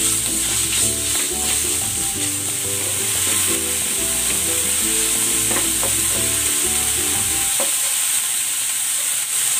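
Ground pork mince sautéing in a pan for a budget pechay dish, a loud, steady sizzle with bursts of stirring and scraping that stop near the end, leaving a softer hiss; no voices.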